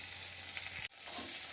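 Spices, turmeric and chili powder among them, sizzling in a hot frying pan with ginger-garlic paste, a steady close hiss with a brief scrape of stirring midway.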